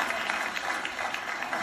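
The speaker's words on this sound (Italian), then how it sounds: "Un bello applauso per Federico Fellini e Giulietta Masini" A brief, even wash of applause for newlyweds Federico Fellini and Giulietta Masina, many hands clapping at moderate volume without a break.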